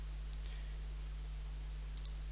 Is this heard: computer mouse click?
yes